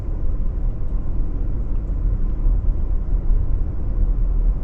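Mercedes EQE 350+ SUV electric car driving, heard from inside the cabin as a steady low road rumble and soft hum with no engine note, quiet and even, without talking.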